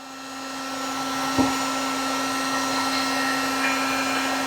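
An 1/8 inch shrink tube being heated on a swivel ahead of powder coating: a steady, close, whirring hum that holds throughout, broken by one brief click.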